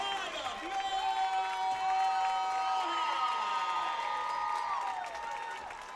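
A stadium crowd at a Friday night high school football kickoff game cheers and applauds the Pride of Melbourne marching band, a broad, sustained roar with whoops mixed in that swells and then eases slightly toward the end.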